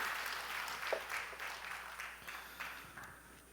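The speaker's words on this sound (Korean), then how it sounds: "큰 박수를 해주시기 바랍니다." Applause rises from a church congregation at a retired elders' couples retreat, a fairly faint, moderately sized round of clapping with uneven bursts that thins out toward the end.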